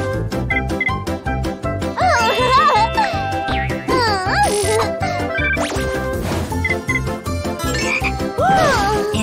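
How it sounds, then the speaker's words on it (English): A cartoon frog croaks repeatedly in a children's police monster truck cartoon, loud bouncy croaks over cheerful music with sliding, springy sound effects, several calls spread across the stretch. "A frog!"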